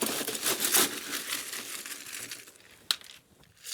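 Ice cubes rattling and crunching as they drop into a metal cocktail shaker tin for a tequila limoncello cocktail, a brief cluster of clattering followed by a sharp clink.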